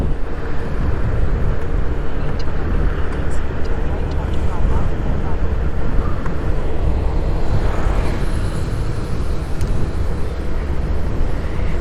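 Two lorries rumble past one after another on a road, heard from a moving motorcycle as a loud, steady broadband roar with heavy wind buffeting throughout and no clear gaps.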